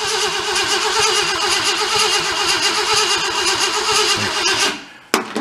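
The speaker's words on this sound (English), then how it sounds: "Give it a little bit more throttle. Hey, sounds pretty good." A 1966 Ford Galaxie engine running at raised throttle, a loud, steady, close-up rumbling drone held for several seconds before cutting off abruptly, followed by a brief clunk.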